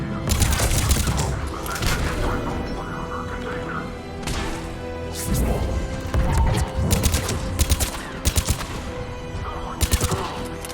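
Heavy gunfire during a checkpoint firefight in the video game Mass Effect 3: dense bursts of automatic fire and booming shots, loud and near, with bursts in a steady rhythm toward the end.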